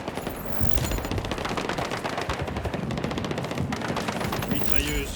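Enemy machine gun fire in the video game Battlefield 6: dense, sustained automatic bursts rattling almost continuously, loud and close, layered with other battlefield gunfire and a voice calling out.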